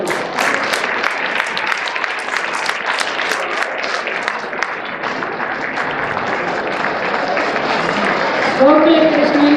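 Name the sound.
audience applause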